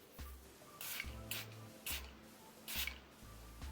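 Four short hissing bursts of cosmetic setting spray, close and crisp, spaced about a second apart with quiet pauses and faint handling sounds between.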